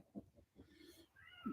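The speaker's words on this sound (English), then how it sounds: "there's a cat inside going, let the other cat in" A cat indoors gives a faint, short meow with low rustling around it, quiet and somewhat distant.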